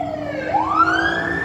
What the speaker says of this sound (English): there goes the ambulance